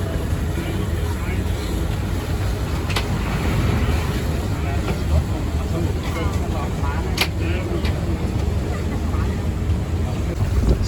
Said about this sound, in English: So just travelling by water bus to St Marco Piazza